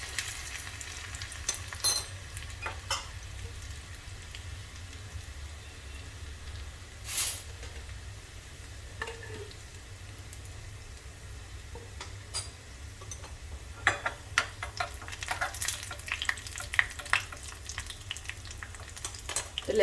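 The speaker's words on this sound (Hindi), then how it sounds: "अब लहसुन को चलाकर अच्छे से भून लेंगे।" Crushed garlic sizzles steadily in hot oil in a pan while being stirred for a spinach-and-potato tadka, with a continuous fry hiss and occasional sharp spatula scrapes and taps, and no talking.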